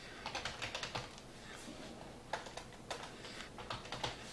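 Bursts of computer keyboard typing at close range, quick runs of clicking keys separated by short pauses, alone with no talking.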